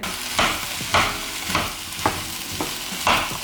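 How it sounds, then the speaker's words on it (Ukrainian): Mushrooms sizzle and fry in a pan while a spatula stirs them in regular scraping strokes, roughly one every half second, close and steady with no talking. "І додаю тепер сюди грибочки."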